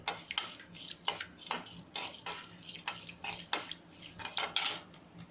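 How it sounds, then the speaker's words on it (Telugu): Repeated metal spoon scrapes and clinks against a pan in a steady rhythm, roughly twice per second, with only a faint frying hiss beneath as mustard seeds, urad dal and chana dal cook. "అర టీ స్పూన్ ఆవాలు మినప్పాలు అర టీ స్పూను శనగపాడలు అర టీ స్పూన్ వేసి బాగా వేపాలండి"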